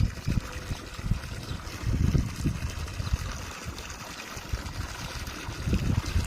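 Water splashes and trickles steadily as it is poured onto the base of mango trees, a close, continuous gurgle that swells in uneven surges.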